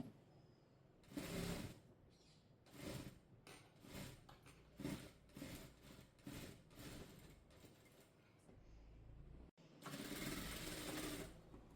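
A sewing machine stitches a double-layer frock, with repeated bursts of fast running and short pauses between them, loud and close, and no voices.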